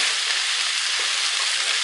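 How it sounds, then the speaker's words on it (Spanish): Tomato fries in a pan over the heat for gazpacho manchego, giving a steady, close, dense sizzle throughout with no talking. "el tomatito ya está frito"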